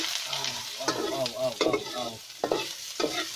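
Onion frying in a hot pan while being stirred, a steady sizzle broken by several scraping strokes, close up, with a brief voice.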